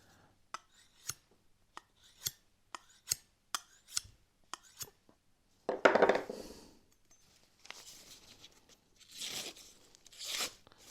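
A chef's knife slices through paper in a sharpness test, first a run of sharp crisp ticks and snips spaced about every half second, then longer rasping tearing cuts, close and quiet with no talk.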